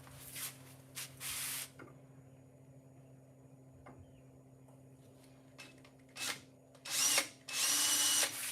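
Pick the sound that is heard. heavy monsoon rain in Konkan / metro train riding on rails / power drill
power drill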